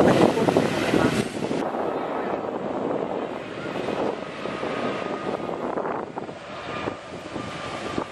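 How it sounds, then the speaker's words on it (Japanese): A loud, steady roar of an airplane passing overhead a beach, mixed with gusty wind buffeting the microphone outdoors. "上には飛行機もあります"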